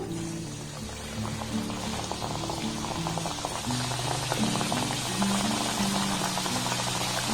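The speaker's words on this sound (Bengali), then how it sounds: "এবার মিষ্টির শেপ দিয়ে যেগুলো বানিয়ে নিয়েছি এগুলো তেলের মধ্যে দিয়ে দেবো" Sweets made from wheat dough and sugar fry in medium-hot oil in a wok, giving a continuous close bubbling sizzle that grows a little fuller as it goes on, with a soft background hum and no talk.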